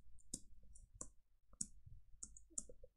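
Computer keyboard keys click in a sparse, irregular run of sharp taps, close and quiet, with short gaps between strokes and no voices.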